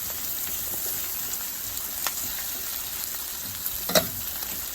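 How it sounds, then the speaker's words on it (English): Peppers sizzle steadily in a hot pan while being stirred into a molcajete dish, a continuous hissing fry with a few sharper pops and scrapes, close and fairly loud, no voices. "we're going to go ahead and start throwing in our peppers. I'm just going to mix that in."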